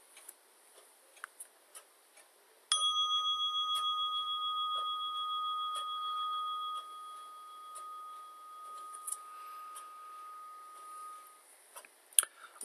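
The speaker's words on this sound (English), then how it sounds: "At the sound of the bell, allow your eyes to open and feel completely rested." A single meditation bell struck once to close a guided meditation, its clear ringing tone sustaining for several seconds and fading slowly, framed by faint soft ticks before and after, with no voice.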